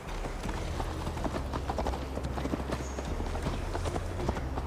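Horse hooves clip-clop steadily as a rider travels on horseback in Assassin's Creed Valhalla, a continuous rhythmic trot at close range over a low ambient bed, with no voices.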